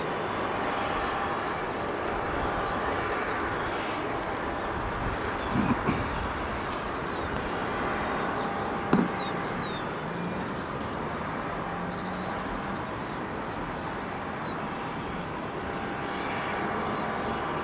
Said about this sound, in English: So the aircraft will travel up to the top.